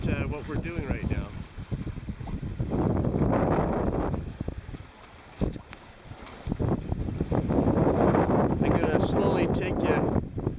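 Sailboat under Hydrovane self-steering gear, with strong wind buffeting the microphone in gusty bursts over water and hull noise, and someone talking intermittently.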